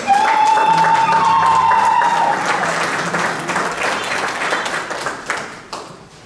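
A congregation at an international mass breaks into sustained applause and clapping that fills the space, loud at first and gradually thinning, with a sung or sustained tone briefly audible at the start.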